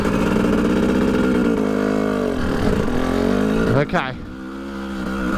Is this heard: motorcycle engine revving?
yes